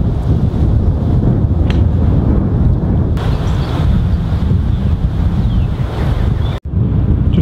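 Strong wind buffets the microphone on a golf course during a tournament round, a loud, continuous rumbling roar that barely lets up, briefly cutting out near the end.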